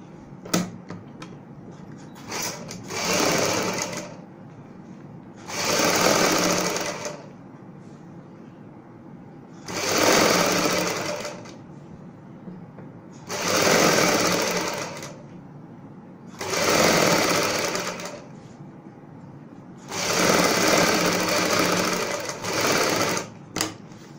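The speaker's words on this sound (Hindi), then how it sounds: "यहाँ पे हम एक साइड से बुकरम के साथ साथ सिलाई लगाएंगे।" A sewing machine stitches kurti patchwork along buckram in six loud, regular bursts of rapid whirring, each a couple of seconds long and separated by short quiet pauses.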